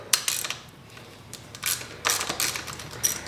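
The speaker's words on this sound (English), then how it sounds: "So you got two bolts here to take off the clutch lever." A hand ratchet works on the clutch lever bolts of a 2000 Kawasaki KX125 motorcycle, with sharp metallic clicks and clatters arriving in uneven bursts, close and fairly loud.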